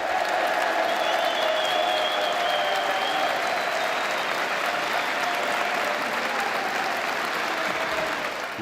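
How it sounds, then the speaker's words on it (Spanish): Prison inmates applaud to greet Pope Francis, a sustained, dense round of clapping from a crowd that stays steady and full throughout. "Los encarcelados recibieron al Papa con aplausos."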